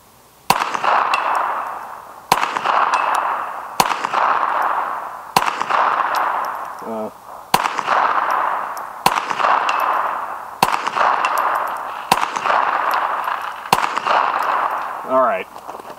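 Volquartsen Scorpion rifle shots fired at a target 100 yards away, about ten sharp, evenly spaced cracks over sixteen seconds, each leaving a ringing tail, with brief murmured voices between a couple of them.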